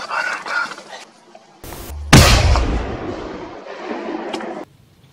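A single loud rifle shot during a red deer hunt in Poland, a sharp blast that rolls out into a long decaying echo, with faint background voices before it.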